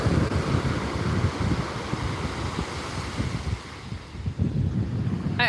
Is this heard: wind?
yes